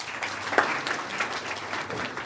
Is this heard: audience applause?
yes